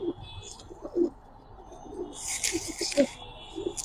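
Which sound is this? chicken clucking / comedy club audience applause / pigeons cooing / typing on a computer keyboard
pigeons cooing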